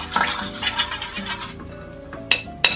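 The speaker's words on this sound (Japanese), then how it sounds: "よく混ぜていきます。" A spoon mixes soy sauce, vinegar, sugar and sesame oil into a dipping sauce in a small bowl, giving a quick swirling clatter that fades, then two sharp taps on the rim.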